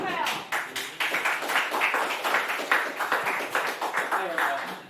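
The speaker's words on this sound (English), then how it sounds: "give an applause to Raphael." An audience at an improv show claps for a performer. The claps are distinct and rhythmic and stay at a moderate level throughout, with a voice heard over them.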